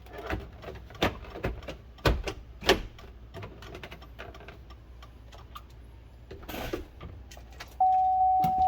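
Sharp plastic snaps and clicks of a custom gauge cluster being pressed into a 1999-2006 GM GMT800 truck dash, scattered irregular ticks with a few louder pops, close and alone, ending in a steady tone.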